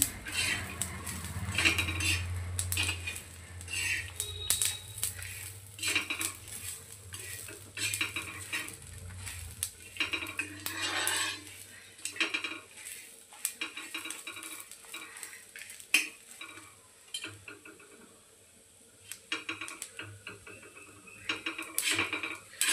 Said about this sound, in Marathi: त्यामध्ये आपण सगळा मसाला टाकून छान अशा पद्धतीने परतून घेऊया.